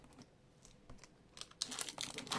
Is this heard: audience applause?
no